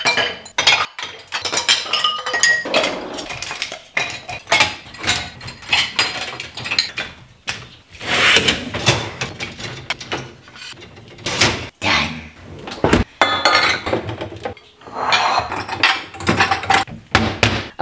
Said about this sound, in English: I just loaded all the dishes that were in the sink into the dishwasher